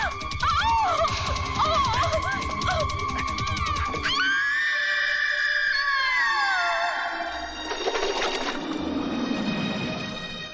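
A woman's loud, sustained scream rises over a tense dramatic film scene, following a burst of agitated voices and background music.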